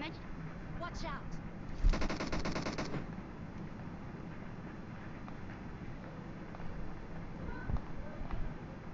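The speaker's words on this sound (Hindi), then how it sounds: "हमारे हर तरफ गोलियां चल रही हैं।" Burst of automatic gunfire in PUBG on the Livik map, a rapid rattling volley of about a second against constant game noise, with people talking over it.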